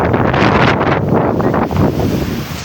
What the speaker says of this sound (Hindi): ये देखिए भाई आपके सामने ये लाइव तूफान देखें आप